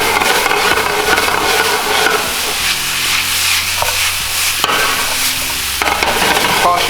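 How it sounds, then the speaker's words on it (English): Soba noodles with soy sauce are tossed and stirred in a hot pan, giving a steady close sizzle and hiss with scraping and clacking utensil knocks throughout, and no talk. "Toss your soba noodles a little bit, and that soy sauce will reduce down and really season everything really nice."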